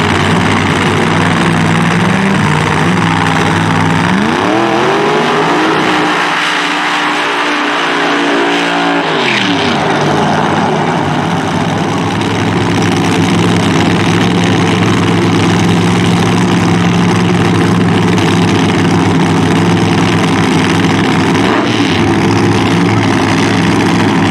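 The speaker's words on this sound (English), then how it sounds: "Supercharged methanol-fueled Hemi power, getting these cars down the racetrack in a hurry." Supercharged, methanol-fueled Hemi drag racing cars at Maryland International Dragway, a loud, sustained engine roar with a deep rumble and a brief pitch sweep up and down partway through, continuing steadily to the end.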